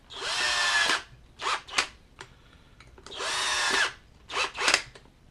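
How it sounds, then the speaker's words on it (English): A power drill with a preset clutch drives screws during CNC router assembly, firing in four loud whirring bursts: two long runs, each followed by a pair of short stuttering pulses, with quiet gaps between. "Take our drill, which has the clutch already preset."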